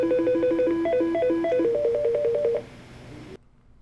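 Mitel 6867i desk phone playing ringtone previews, a bright electronic melody of quick stepping tones that repeats for about two and a half seconds, then cuts off abruptly to quiet room hum.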